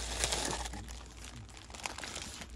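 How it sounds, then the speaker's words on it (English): A plastic bag is handled and crinkled in a workshop, giving a continuous rustling, crackling texture close to the microphone with no talk. "So grab that plastic bag."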